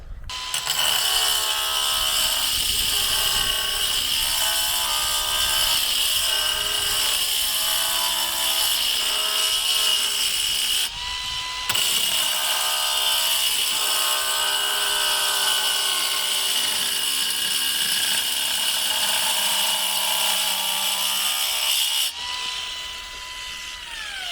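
Loud, steady high-pitched whine of a cordless angle grinder cutting tile, running continuously with two brief dips in pitch, no voices.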